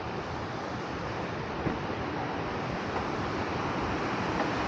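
A waterfall roars near a viewing platform in the mountains of Obergurgl, Austria, a steady broadband rush of falling water with no breaks, fairly loud and unaccompanied by voices.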